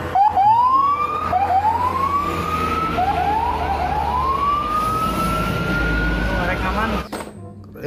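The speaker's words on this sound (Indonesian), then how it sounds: "Wow, lihat teman-teman, ada mobil bus polisi." A police bus siren wails, sweeping up in rising whoops over steady traffic rumble, repeating several times before cutting off near the end.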